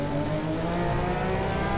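A Porsche 911 RSR GTE race car engine in the racing game rFactor 2 at Le Mans drones loud and steady, a sustained high-revving exterior roar with no pause.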